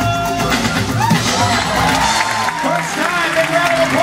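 Cruise ship show audience cheering and clapping for a volunteer during a juggler's act, a loud, lively crowd roar with whoops and shouts over a bed of applause.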